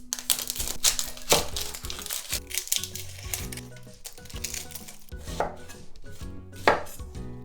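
A knife cuts an onion into slices on a board as part of making yaki udon, landing as crisp, fairly quick chops in uneven bursts. Faint crinkling sounds from the onion run between the cuts.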